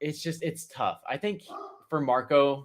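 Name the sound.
dogs barking in the background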